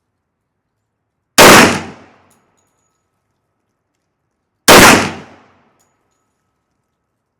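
Two loud, sharp handgun shots from a 460 Rowland pistol fired without an optic, about three seconds apart, each a hard crack with a quick decaying tail and silence between.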